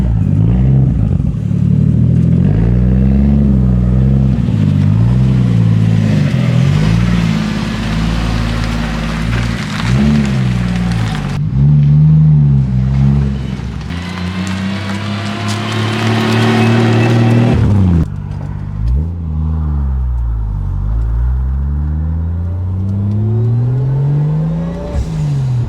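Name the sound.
1987 Toyota Supra engine warming up and revving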